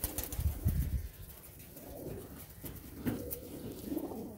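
Pigeons coo softly in low, murmuring bursts, with a brief flutter of wings near the start and faint scuffling between calls.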